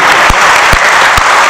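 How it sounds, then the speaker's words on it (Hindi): Dense applause from an audience at a Hindi patriotic poetry recital, loud and continuous with a few sharper claps standing out. "एक बार तालियां उठाइए"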